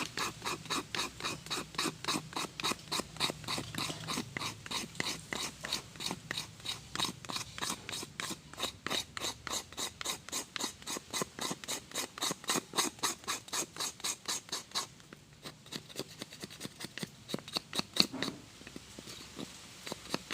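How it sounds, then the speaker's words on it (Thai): A knife scrapes wood into fine shavings for campfire tinder with fast, rhythmic strokes that repeat steadily for about twenty seconds. It is close and dry, with a short pause and a change in texture near the end. "ขูดให้มันเป็นขุยย นะครับ ออกมาเยอะๆ ก็สามารถใช้แทนพวก กระดาษทิชชู่ได้นะครับ"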